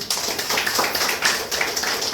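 Loud, dense applause from an audience at an award ceremony honouring achievers, steady continuous clapping from many hands close by with no pauses.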